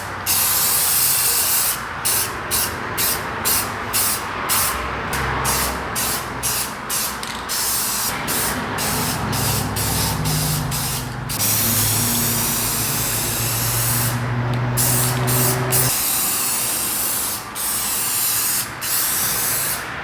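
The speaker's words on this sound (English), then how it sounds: "now it is time to lay the second coat of clear." A spray gun lays the second coat of clear on a Ford F250 truck with a continuous loud hiss, broken by short bursts and a brief drop in level, and no talking.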